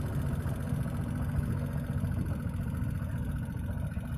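A motorbike engine runs steadily in a forest, a constant low rumble that continues without breaks and with no talking.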